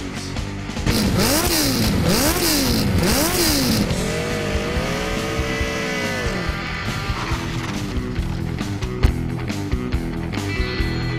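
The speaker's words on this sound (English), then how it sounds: "Rev up your engines!" An engine revs hard in rising and falling sweeps, then holds a steady high whine, loud and close, like a race car or motorcycle.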